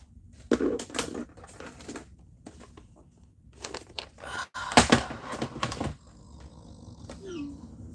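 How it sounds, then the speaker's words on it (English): Irregular keyboard typing clatters in bursts of quick taps and clicks, close and fairly loud, mixed with rustling and a short crunchy burst near the middle. "Somebody just typing for a day and a half."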